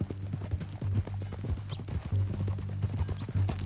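Horse hooves clip-clop steadily in the Red Dead Redemption western video game, a close rhythmic trot with faint chatter between characters underneath.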